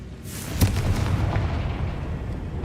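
A Confringo fire spell in Hogwarts Legacy bursts with a sharp crack followed by a deep rolling boom that rumbles and slowly fades, heard alone.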